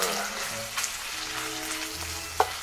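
Oven-roasted tomatoes, peppers and garlic cook in a pan with a quiet, steady sizzle and a single small clink near the end, no voices.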